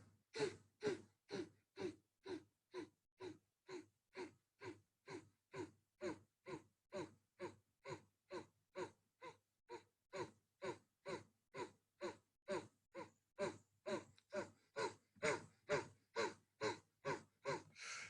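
A freediver doing a breathing drill, steady rhythmic cycles of close nasal inhales and exhales, about thirty even breaths with nothing else heard.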